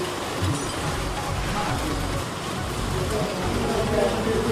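Steady rain patters in the background while people talk nearby, the hiss continuous and moderately loud throughout.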